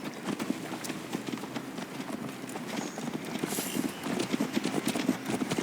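Horse hooves clop at a steady trot on a ride to Tamworth in Assassin's Creed Valhalla, a clear rhythmic beat of close hoofbeats running throughout, with faint voices in the background.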